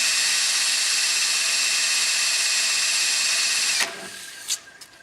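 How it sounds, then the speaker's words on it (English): A power tool spins a pump's motor shaft with a steady, loud high whine that runs continuously, then cuts off abruptly, leaving a few faint clicks and knocks. "Take our power tool, start spinning the motor shaft."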